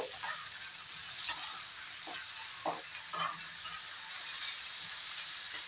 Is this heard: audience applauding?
no